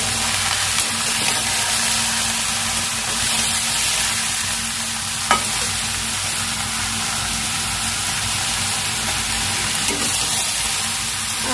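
Chana dal and sponge gourd frying in a pan give a steady, even sizzle throughout, with a couple of faint stirring clicks and no voices.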